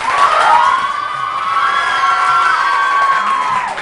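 Studio audience at a Pakistani television show cheering and shouting, a loud, sustained crowd roar with high-pitched voices that holds steady for several seconds.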